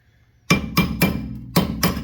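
Five loud, sharp metallic hammer blows strike a chisel against a heavily rusted rear wheel bearing nut on a 2006-2010 Volkswagen Jetta, spaced unevenly at close range with brief ringing decay and no talk.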